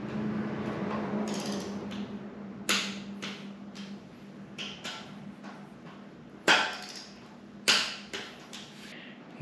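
Torque wrench tightening breather bolts on a Harley-Davidson air intake, heard as close creaking and ratcheting clicks with a few sharp snaps over a low background hum.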